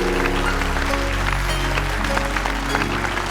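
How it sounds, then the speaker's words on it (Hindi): Clapping at a birthday party sits under loud, sustained music with a heavy low drone and steady tones, the applause mixed into the noisy, festive backdrop rather than standing alone. "जाओ ताली बजाओ।"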